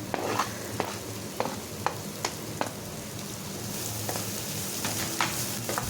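Chopped big onion fries in a pan for an okra fry. A low, steady sizzle runs through it, and crisp spatula taps and scrapes land at irregular intervals.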